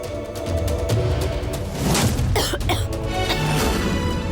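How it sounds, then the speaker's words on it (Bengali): A person coughs several times in short harsh bursts, fairly close, with some throat clearing between coughs. "তোমার তো কাশি হচ্ছে কেন?"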